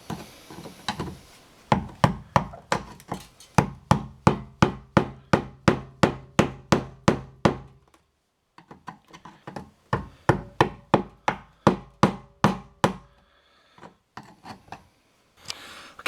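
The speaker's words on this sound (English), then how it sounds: "after a little bit of persuasive hammering and some chiseling with a screwdriver" Sharp, evenly spaced hammer blows on metal tabs during a Chevy Blazer fuel pump installation ring out in a steady rapid series, pause briefly, then resume; close and loud metallic-wooden strikes with no talking.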